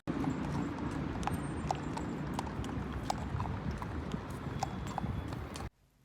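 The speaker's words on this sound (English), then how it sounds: "You can actually do horse riding in the city center." Horse hooves clip-clop on a street in central Tangier, Morocco, making a steady, even rhythm of sharp knocks over a dense bed of city noise before stopping abruptly.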